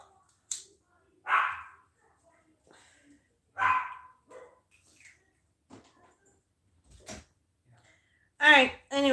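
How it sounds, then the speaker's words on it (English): Several dogs bark in a house in scattered single yaps and short bursts with quiet gaps between, moderately near, ending in a louder cluster of barks. "It's the dogs again."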